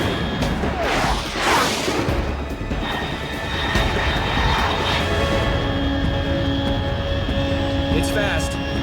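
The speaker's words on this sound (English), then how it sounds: "Control, unidentified aircraft detected" A fast jet aircraft flies past high overhead in the Metal Gear Solid 3 video game, a loud broad roar that swells and sweeps across with whining engine tones, under a steady game soundscape without clear talk.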